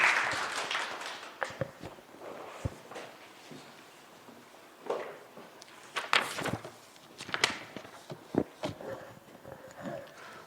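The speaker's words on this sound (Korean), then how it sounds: "다 같이 박수로 환영해 주시기 바랍니다." An audience at an exam-preparation lecture claps in scattered bursts, moderately loud at first, then thinning into isolated claps and shuffling, with some faint movement in between.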